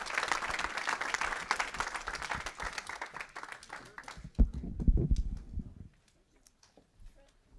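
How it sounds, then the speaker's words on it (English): A roomful of people gives a round of applause for kids and staff, dense clapping that thins out into a few closer, heavier claps and thumps before fading to near silence. "can we get another round of applause for our great kids and staff?"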